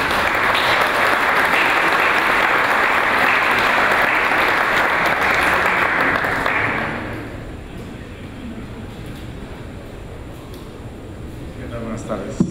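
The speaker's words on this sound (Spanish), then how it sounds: "Por favor, recibámoslo con un grato aplauso." Audience applause at a seminar on flood risk management, dense and loud clapping for an arriving speaker that continues for about seven seconds, then drops away to quiet room tone.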